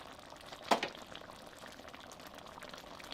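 Carne en su jugo, a Mexican beef broth, simmering after about 20 minutes of cooking, with a soft, continuous bubbling hiss and one brief louder splash or clink near the start.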